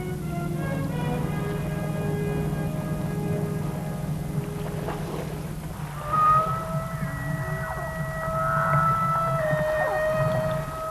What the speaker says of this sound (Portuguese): O chamamento da baleia solitária é plangente, muitas vezes melodioso.